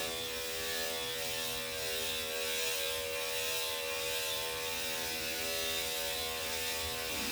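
Electric hair clippers buzz steadily while shaving a nervous dog near its ear, a constant close mechanical drone with a strong hum throughout and no talking.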